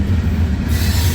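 A CSX freight train led by an EMD SD70MAC locomotive passing through Washington Grove, with a loud, steady roar of rolling wagons and wheels close by, no voices.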